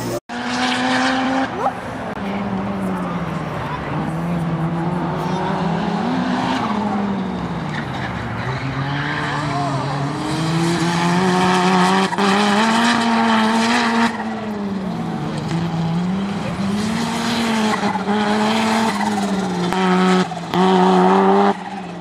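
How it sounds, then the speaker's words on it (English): Race cars drive around a track, a loud continuous engine drone rising and falling in pitch as the cars accelerate and ease off, with tire squeal touches throughout. "Watching cars. Watching race cars?"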